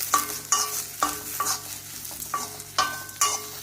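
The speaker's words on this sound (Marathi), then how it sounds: "आणि भेंडी भाजून घ्यायची." Sliced okra coated with a little besan (gram flour) frying in oil in a pan, with a spatula scraping and stirring in a steady rhythm of sharp strokes over a constant low sizzle, close and alone.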